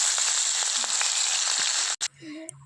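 Chopped onion hitting mustard oil tempered with dried red chilli and whole cumin, a loud close sizzling hiss that cuts off abruptly, followed by quieter clinks and a short voice.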